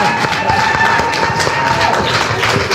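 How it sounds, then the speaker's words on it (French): Audience at an official installation ceremony breaking into a steady wash of applause, dense continuous clapping with crowd murmur and a faint tone running underneath. "on va applaudir un peu"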